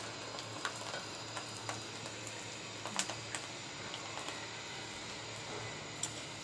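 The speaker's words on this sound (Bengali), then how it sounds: "পিঠা ভাজতেছি।" Pitha, rice cakes, frying in oil at home on an afternoon after rain, a faint, steady sizzle with scattered small pops and crackles, quiet and close, with nobody talking.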